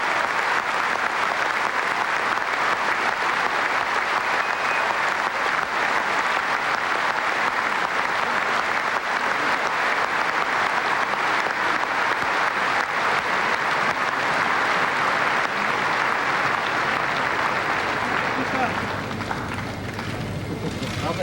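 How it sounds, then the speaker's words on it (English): A Wimbledon tennis crowd applauds in a long, dense, steady wave of clapping that fills the stadium, thinning slightly near the end. "As the crowd continues to applaud and admire"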